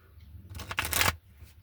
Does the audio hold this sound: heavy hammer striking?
no